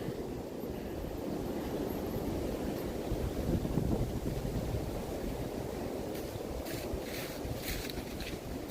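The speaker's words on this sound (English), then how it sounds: "The wind's picking up." Wind gusts along a Chicago street near taller buildings on a November morning, a continuous rumbling roar buffeting the microphone, with faint higher hiss toward the end.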